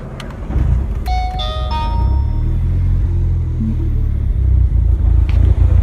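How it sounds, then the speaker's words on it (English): A Mini Cooper engine runs with a steady, deep low rumble throughout, and a few bright chime-like dings ring out near the start over the continuous engine drone. "I'm going to start it up again and drive it around"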